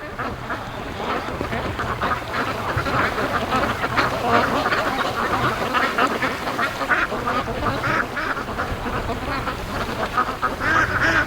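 Free-range ducks on a lake quack repeatedly in a busy flock, calls overlapping continuously over a rushing background of strong howling wind.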